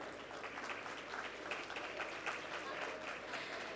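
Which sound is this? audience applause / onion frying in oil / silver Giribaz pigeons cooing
audience applause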